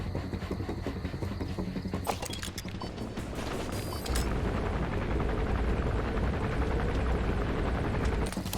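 A helicopter in Metal Gear Solid V: The Phantom Pain thrums through a game soundscape, its rotor beat building into a loud, dense drone, with sharp impacts and clatter scattered early on.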